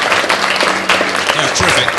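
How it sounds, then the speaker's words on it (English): Wedding guests give a round of applause at the reception, a dense steady clatter of many hands filling the room while a voice talks over it. "Yeah, round of applause, yes, why not?"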